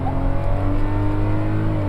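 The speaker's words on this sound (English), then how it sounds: "Listen to the engine revving up," A 2021 Kia Picanto facelift micro car's engine revs up under acceleration, a steady loud drone with rising engine tones and road noise heard from inside the cabin, no talking.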